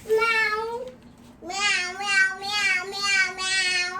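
Young girl dressed in a cat costume imitating a cat, giving a series of four or five drawn-out meows up close, one long cry, a short pause, then several quick, rhythmic mews.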